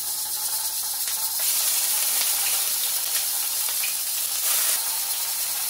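Onion paste sizzling in hot oil with bay leaves, cinnamon, cardamom and cloves, a steady close hiss that swells louder after the first second and holds without a break.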